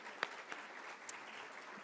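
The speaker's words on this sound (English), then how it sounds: "let's give them a round of applause for our future" Soft, distant applause from an audience at a talk, a light continuous patter with a few sharper nearby claps.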